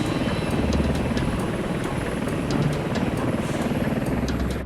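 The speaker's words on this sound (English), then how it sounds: "no one had ever been hoisted by a wire into a roaring helicopter" A rescue helicopter roars loudly and steadily throughout a wire hoist, its dense rotor and engine noise close and continuous with no voices.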